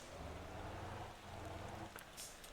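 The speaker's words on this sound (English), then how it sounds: "the rain isn't really helping here." Rain falls in the truck-driving video game Motor Town, a steady faint hiss with a low rumble beneath and no voices.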